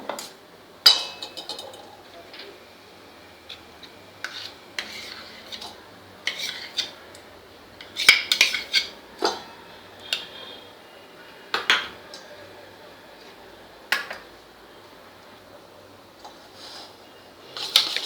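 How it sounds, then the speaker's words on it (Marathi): A spoon knocks and clinks against a bowl while homemade butter is beaten until fluffy for an eggless chocolate cake, scattered sharp taps at uneven intervals over a quiet kitchen background. "बटर छान फेटून घ्यायचं आहे, असं म्हणजे फ्लफी झालं पाहिजे असं."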